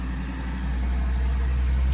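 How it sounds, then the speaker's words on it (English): A big old truck drives past with a steady, loud, low engine rumble and road noise that holds and swells slightly throughout, with no talking. "It's a big old truck."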